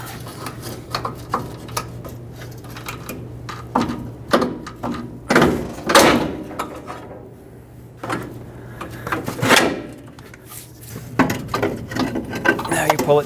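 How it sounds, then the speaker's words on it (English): Metal clanks and knocks come in irregular bursts as a pry bar works a front strut assembly loose from a 2015-2020 Ford F-150, with a steady low hum underneath. "Now using a pry bar and maneuvering this strut around, remove it from the truck."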